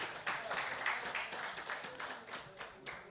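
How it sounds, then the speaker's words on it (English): Faint, distant audience applause at a journalism awards ceremony, a thin patter of scattered hand claps that rises and falls in small waves without voices on top. "Let's give them another round of applause"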